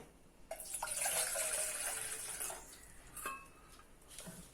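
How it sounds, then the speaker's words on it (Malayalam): Water pours into an idli steamer pot on a stove in a steady splashing rush for about two seconds, followed by a few lighter splashes and drips; nobody talks. "ഇനി നമ്മൾ സ്റ്റൗവിലേക്ക് ഇഡ്ഡലി പാത്രം വെച്ചിട്ട് വെള്ളം ഒഴിക്കണം."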